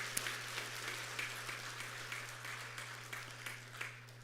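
A church congregation at a Sunday evening service applauds, a steady patter of many hands clapping in a reverberant hall over a constant low hum, fairly quiet and unbroken.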